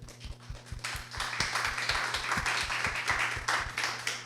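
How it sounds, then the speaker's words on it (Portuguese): Applause for an audience member at a lecture event, scattered hand claps over a steady low rhythmic thumping of background music, lively and fairly close. "Salve de palmas para Kaique."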